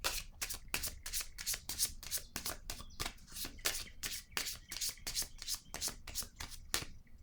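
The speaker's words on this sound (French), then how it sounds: "Je vais déposer une carte ici." Playing cards being shuffled and handled: a steady run of quick, crisp riffling flutters, close and fairly loud, lasting throughout with no clear talking.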